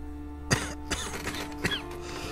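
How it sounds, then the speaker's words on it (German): A man coughs three times in a German radio drama set during a doctor's examination: a heavy cough, then two lighter ones spaced about half a second apart, close to the microphone over a low steady hum. "Husten Sie."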